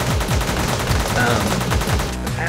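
Auto pistol firing rapidly in the top-down shooter Teleglitch during an arena module, a quick run of sharp repeated shots in an even rhythm, loud and close over game background noise.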